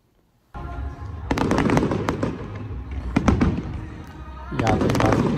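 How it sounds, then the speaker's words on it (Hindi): Fireworks at the Blackpool Illuminations 2025 burst and crackle continuously with sharp bangs and rumbling booms, fairly close, amid crowd noise and a voice speaking. "ये आतिशबाजी भी पूरा तकरीबन आधा घंटा पूरा ये आतिशबाजी लगी रहती है"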